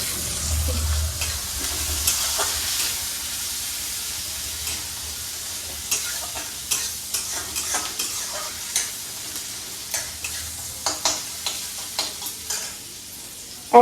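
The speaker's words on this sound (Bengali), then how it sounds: "পেঁয়াজটা একটু ভালো করে ভাজা ভাজা করতে হবে।" Onion for fish curry fries in a pan with a steady close sizzle, while repeated stirring scrapes and taps on the pan grow more frequent toward the end.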